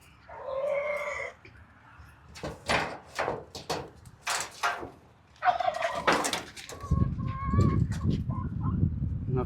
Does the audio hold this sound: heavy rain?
no